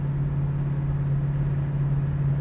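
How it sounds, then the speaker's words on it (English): Steady low drone of a 1965 Ford Mustang Fastback cruising on a road, a constant engine hum heard from inside the cabin with no talking. "Driving on the road in our 65 Mustang Fastback."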